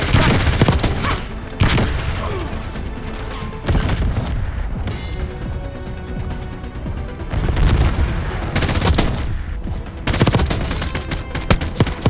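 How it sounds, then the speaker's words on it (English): Heavy multiplayer combat in Call of Duty: Black Ops 6, with dense bursts of automatic gunfire and sharp blasts, among them a flashbang, in loud clusters separated by brief lulls. "Flashbang"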